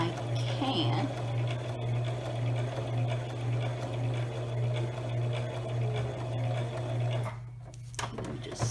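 A sewing machine stitches a glasses pouch, running in a steady continuous whir with a strong hum, close and fairly quiet, pausing briefly near the end.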